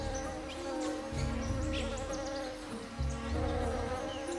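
Male orchid bees buzz around a bucket orchid in the Colombian forest, several droning wingbeats rising and fading as they pass close by over a dense background of insect hum.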